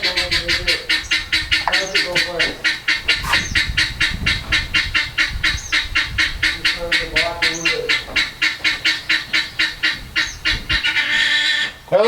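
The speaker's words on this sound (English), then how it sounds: "A couple guineas over there walking in the creek," Guinea fowl calling near a creek, a rapid run of loud, harsh repeated cries in a steady chattering rhythm, close by and almost continuous.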